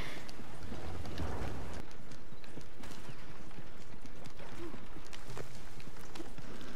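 Horse hooves pounding at a gallop in the Red Dead Online video game, a steady run of clip-clop beats, fairly close and moderately loud, with no one talking.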